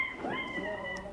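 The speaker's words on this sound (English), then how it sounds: "What kind of dog is that, Mon, in the background? It's a beagle." A beagle whimpers and whines somewhere in the background, a short, high, wavering cry rising and falling over about a second, moderately quiet and heard on its own.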